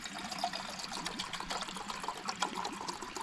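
Water trickles along a stream or small river beside a hot-weather wild camp, a steady, close, bubbling flow with brief brighter splashes and no voices over it.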